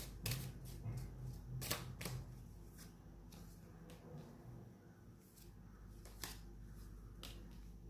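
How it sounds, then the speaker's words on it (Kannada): Tarot cards shuffled close by at low volume: soft scattered papery taps and flicks in irregular clusters over a faint steady background hum, no speech. "ಈಗೇನು ಕೋರ್ಟ್ ಕಾರ್ಡ್ ಬಂದಿದೆ ನೋಡೋಣ, ಸ್ವಲ್ಪ ಶಫಲ್ ಮಾಡೋಣ"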